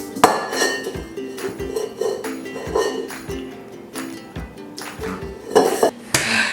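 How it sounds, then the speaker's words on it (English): Utensils scrape and clink against a metal pot while food is scooped out, with irregular clanks and knocks spread over several seconds at close range, plus a brief murmur of voice. "Now I'm going to scoop it out of the pot slash pan slash whatever this is"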